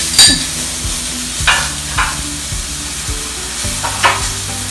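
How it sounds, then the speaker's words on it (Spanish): Garlic, finely chopped, frying in melted butter in a pan, a steady close sizzle with several sharp scrapes and clatters of a utensil stirring through it, no voices. "la mantequilla ya se está derritiendo. Vamos a agregar ajo, finamente cortado."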